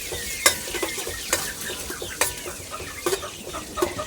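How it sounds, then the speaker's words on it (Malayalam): Butter melting in a pan on low heat gives a soft crackle beneath a series of distinct scraping, tapping utensil strokes, close and fairly quiet. "ഇനി ബട്ടർ നമുക്ക് മെൽറ്റ് ചെയ്തെടുക്കണം."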